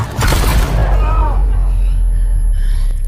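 Gunshot in an action film scene where one man fires at a woman and the shot strikes another man's hand, heard as a loud, dense boom opening the clip and a sustained low rumble with blaring effects that fill the whole stretch.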